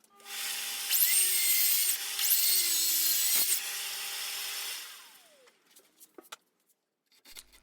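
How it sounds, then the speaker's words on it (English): A rail saw cuts 10mm off a table saw leg with a loud, bright, rasping whine that holds for about four seconds with a brief dip midway, then winds down into a few light knocks and taps. "So here I'm using the rail saw"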